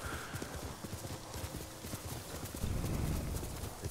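A horse's hooves clop on stone roads in Ghost of Tsushima, a quick steady rhythm of close, crisp hoofbeats over faint background ambience, growing a bit louder near the end.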